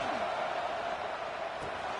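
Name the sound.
football stadium crowd cheering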